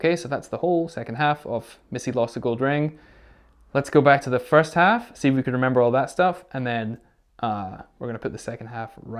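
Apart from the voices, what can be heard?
No distinct noise like a dog, phone or traffic.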